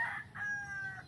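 Chickens on a small Filipino backyard farm of about 130 birds, hens and chicks included, with a rooster crowing twice in clear, close, drawn-out calls over a low murmur of clucking.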